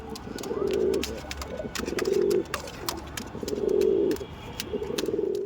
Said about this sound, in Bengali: আপনার সামনে দেখাচ্ছি কালশিরা পায়রা, আন্ধ্রা কালশিরা।